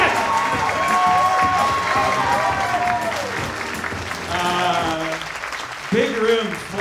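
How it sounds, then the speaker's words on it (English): A live comedy show audience applauds, a dense wash of clapping and cheering that carries on for several seconds as a voice talks over it before it fades. "You're applauding yourselves"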